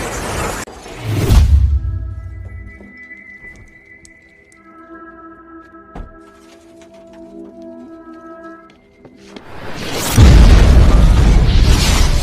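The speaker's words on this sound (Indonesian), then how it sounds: "mobilnya tertembak dan langsung tertabrak hingga meledak" A car explodes in the Fast and Furious Tokyo Drift film, with a deep boom near the start and another at the end, and sustained musical tones drifting between them.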